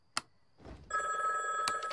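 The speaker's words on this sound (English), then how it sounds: "It's been calling all night. Just unplug the phone." A telephone bell rings indoors in The Simpsons cartoon. A sharp click comes first, then a bright, continuous, fairly loud electronic ring with no talking.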